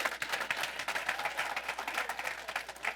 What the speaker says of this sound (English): clap for her, clap for her